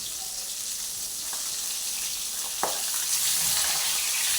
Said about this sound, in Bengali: আর এখানে মাছটা ভাজা হচ্ছে